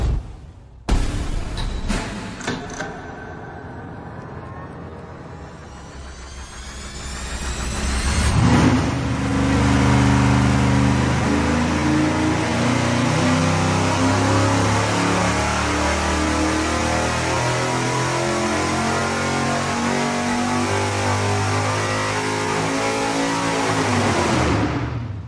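A hopped-up 6.2-litre V8 of about 550 horsepower roars loudly as it revs up, then holds a steady, heavy, rumbling high-rpm drone for a long stretch before cutting off.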